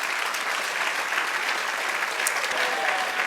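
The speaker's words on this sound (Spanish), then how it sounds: "Dale otro aplauso al Señor" Church congregation applauding during a Spanish-language worship service, a steady dense wash of many hands clapping at once, fairly loud and continuous throughout with no talk over it.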